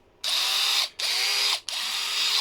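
Repaired cordless polisher motor spinning up three times in quick succession, each run a steady, high-pitched electric whine lasting about half a second, close and loud with no talking.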